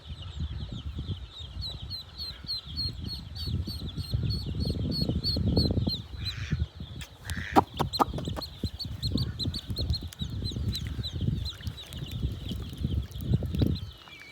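Day-old ducklings and chickens call repeatedly over a steady bed of outdoor noise and splashing water, with a few sharp clatters midway.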